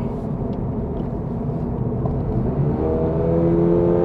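A Toyota GR86 / Subaru BRZ sports car with automatic transmission hums while driving, then revs upward with a rising whine toward the end, steady road noise underneath.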